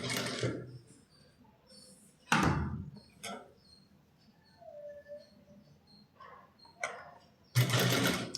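Sewing machine stitching an edge along a neckline, heard in several short bursts of whirring separated by pauses, with a loud run at the start and another at the end.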